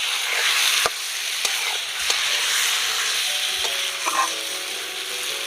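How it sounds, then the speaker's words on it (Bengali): Chicken pieces with chopped tomatoes sizzle steadily in a pan during slow stir-frying for a Bengali chicken kosha, with occasional sharp scrapes and taps of a spatula over the constant frying hiss. "এবার আস্তে আস্তে কষিয়ে নেব।"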